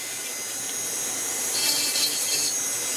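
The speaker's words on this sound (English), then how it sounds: "let's go ahead and switch over to our little ruby burr here on our micro motor" A micro motor fitted with a ruby burr, slowed to about 10,000 RPM, grinds into carved wood, giving a steady thin high whirring rasp that grows a little rougher partway through, close up and with no voices.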